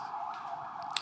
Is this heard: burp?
no